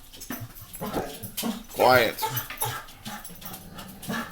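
Dogs whimpering, yipping and barking nearby in short bursts, one louder yelp standing out midway, mixed with a person talking over them.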